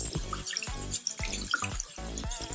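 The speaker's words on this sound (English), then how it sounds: "somebody's gonna say something about the water running" A running tap splashes over makeup brushes as they are rinsed in a sink, a close, uneven stream with irregular bursts and drips, and no voices.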